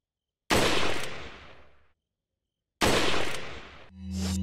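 Gunfire in Resident Evil 4 (2005) at a castle, two loud close bursts each about a second and a half long, separated by silence, the second cut off by a humming tone.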